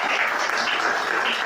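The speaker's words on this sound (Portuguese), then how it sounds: "Pode aplaudir." A church congregation applauding during a sermon, a steady wash of many hands clapping together at even loudness throughout.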